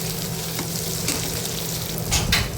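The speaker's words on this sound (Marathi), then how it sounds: "टोमॅटोही व्यवस्थित परतून घेऊया" Tomatoes sauté in a hot pan for dry soybean bhaji, giving a steady close sizzle with brief stirring scrapes and a louder burst near the end, no talking.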